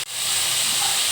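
Pieces of papaya frying in hot oil give a loud, close, steady hiss that swells quickly and holds for about a second.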